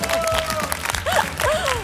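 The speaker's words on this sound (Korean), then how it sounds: "큰 박수 한번 보내주세요." A crowd applauds at a high school piano and composition music competition, a brief burst of clapping mixed with voices and a few ringing tones.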